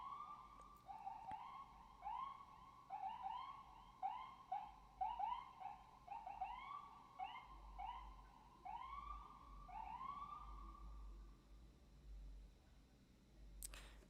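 An ambulance siren wails through a long series of repeated rising-and-falling sweeps, fairly strong at first, then fading as it passes by, with a low rumble underneath.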